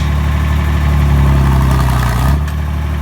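An IH Farmall 560 tractor's engine running loud and close under raised throttle, a steady low drone that holds then dips as the clutch is let out.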